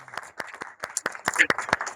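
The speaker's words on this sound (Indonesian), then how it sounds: "tepuk tangan bagi kita semuanya ya" Sparse, distinct hand claps ring out from a small evening gathering in Boyolali, a dozen or so separate near claps in an uneven rhythm rather than a full crowd roar.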